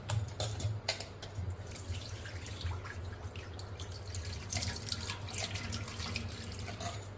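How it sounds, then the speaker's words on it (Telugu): Tap water runs steadily into a sink while mutton head meat is washed for a Rayalaseema-style curry, a close, continuous splashing stream with brief clatters at the start. "దీన్ని ఇంకొకసారి వాష్ చేసుకుంటామండి."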